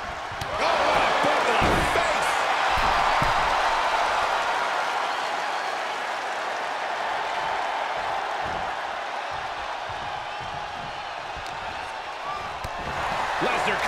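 Arena crowd at a WWE Iron Man wrestling match, Brock Lesnar vs Kenji Dragonsoul, roars and applauds in a steady wash of noise across the whole stretch, with scattered thuds beneath.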